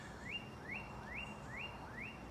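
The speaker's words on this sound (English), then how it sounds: "That's a cardinal singing to us." A cardinal sings a series of five rising slurred whistles at an even pace, faint and somewhat distant over a steady low background hum.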